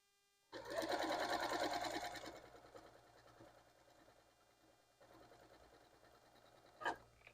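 A sewing machine stitches a quilt piece made with pineapple trim rulers, running in a fast, steady burst of about a second and a half, then slowing and quieting, with a brief sharp click near the end.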